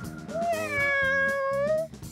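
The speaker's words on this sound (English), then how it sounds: "this is my cat, Wonderland." A house cat meows in a long, drawn-out, wavering call with rising and falling pitch, close and clear, with no talking over it.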